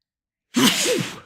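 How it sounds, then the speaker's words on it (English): A single human sneeze bursts out abruptly after silence: a sharp voiced, breathy blast that trails off over about a second, close and fairly loud. "sorry, I'm going to sneeze"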